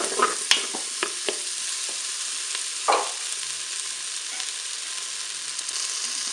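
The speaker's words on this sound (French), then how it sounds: "je vais ajouter mes pommes de terre" Potatoes added to a Cookeo pot for a spinach gratin, giving a steady loud sizzle and frying hiss, with a few sharp stirring clinks and scrapes early on, close, without talk.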